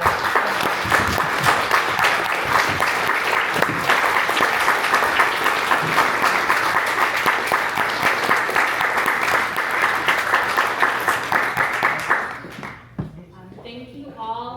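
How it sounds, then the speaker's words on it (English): Sustained applause from an event audience at a Black labor justice gathering, dense continuous clapping for about twelve seconds before it fades out, leaving a quieter tail. "Can we give a round of applause to"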